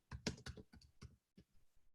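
Computer keyboard typing, a handful of sharp, uneven key clicks heard close by and quiet, with no voices.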